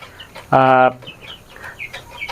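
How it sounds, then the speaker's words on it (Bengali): Broiler and Sonali chickens kept on sand; a single short, loud squawk close by, followed by faint, scattered clucks. "এখানে দেখতে পাচ্ছেন এখন 3টা ব্রয়লার মুরগি আছে, আর এখানে সোনালী মুরগি 3টা।"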